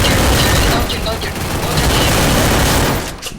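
Dense, rapid automatic gunfire from the Free Fire video game rattles continuously in a loud burst lasting a few seconds, heard without clear speech.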